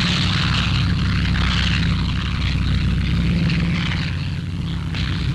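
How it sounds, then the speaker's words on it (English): WWII medium bombers, B-25 Mitchells and B-26 Marauders, drone overhead with a loud, continuous roar of piston engines and propellers, steady and close throughout. "Medium bombers flown by the Lorraine squadron of the Free French, revisiting their native land daily."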